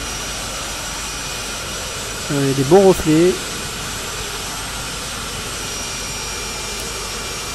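Jet engine of a T-45 or MB-339 trainer jet in Flight Simulator 2020, heard as a steady, even whine and hiss throughout, with someone speaking briefly over it midway.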